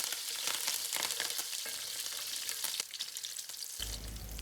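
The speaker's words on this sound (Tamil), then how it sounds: "சூடான நல்லெண்ணெயில் பூண்டு தட்டி போட்டோம்" Crushed garlic dropped into hot sesame oil with mustard seeds gives a steady, close crackling sizzle, with a few sharper pops and a short low rumble near the end.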